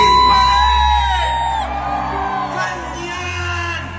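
A concert crowd cheers, whoops and shouts for a singer, a loud, dense roar over sustained music that eases slightly toward the end.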